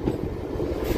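Passenger train running between Markapur Road and Tenali, a steady close rumble of wheels and carriage noise lasting the whole moment with no voices.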